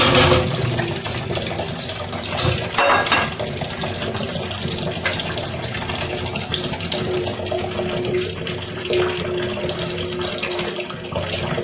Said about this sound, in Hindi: इसको अब मैं ना छन्नी में डाल दूँगी ताकि इसका पानी खिसक हो जाए।